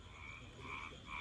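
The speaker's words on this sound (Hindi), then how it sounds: "ये देखो भाई मेंढकों की आवाज आ रही है भाई" A dense chorus of frogs croaking in steady overlapping waves during the rainy season, faint and distant-sounding, with no talking.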